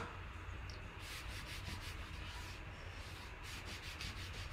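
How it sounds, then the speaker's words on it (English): A paste scraper drags across a surface covered in thick chalk paste, making soft, continuous rubbing and scraping strokes in a quiet, close setting. "this is our paste scraper."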